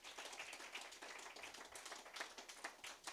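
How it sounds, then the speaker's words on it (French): Faint scattered clapping from a church congregation at a French-language sermon, with uneven individual claps at a distance and no steady roar. "Donnez une main d'acclamation, s'il vous plaît."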